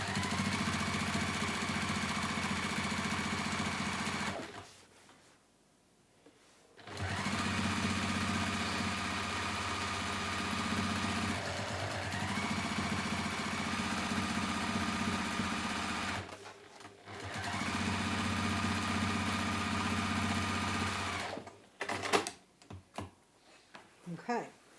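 A sewing machine stitches a tote bag seam in long steady runs, loud and close, stopping briefly twice before a few short bursts and clicks at the end, with no voices over it.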